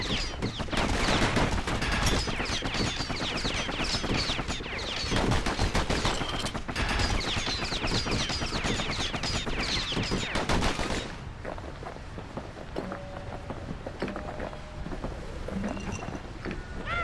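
Gunfire from the guns in the video game Bastion crackles in a dense, continuous fusillade for about eleven seconds, then gives way to quieter ambient game sounds.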